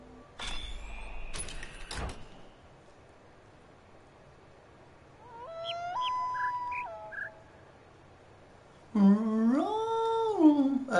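Wavering, yodel-like loon calls in the puzzle game The Witness: a faint first cry that rises and falls, then a louder, longer warbling call, with brief rustles and clicks at the start.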